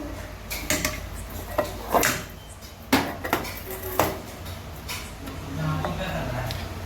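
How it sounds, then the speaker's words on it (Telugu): Someone struggles with a stuck lid on a container of small dried shrimp, producing a series of sharp plastic clicks, knocks and rattling bangs at close range, with a voice talking faintly between the efforts. "మూత రావట్లేదు"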